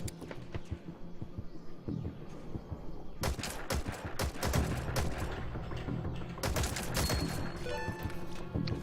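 Rapid bursts of gunfire in the Metal Gear Online multiplayer game, dense volleys and machine-gun rattles over a steady low hum, loud and close for most of the stretch.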